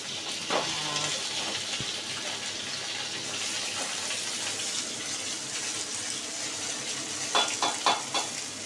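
Mixed vegetables frying together in a pan for shortcut khichdi, a steady broadband sizzle running throughout with a few brief clinks and stirring knocks near the end, no talking.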